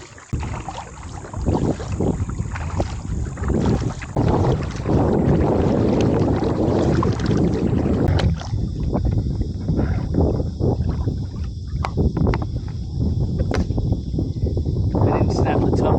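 Wind buffets the microphone in rough gusts over lapping water while kayaking, loud and close, with a steady faint tone running through.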